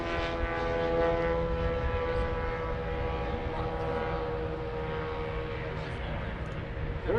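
Cri Cri twin-engine light aircraft with both small engines running near 6,000 RPM, a steady buzzing drone at a demonstration flight at EAA AirVenture 2018, heard under a voice talking over a loudspeaker.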